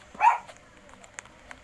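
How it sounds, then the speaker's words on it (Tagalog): A single dog bark rings out near the start, followed by faint clicks and soft background noise. "Ano ba yung aso?"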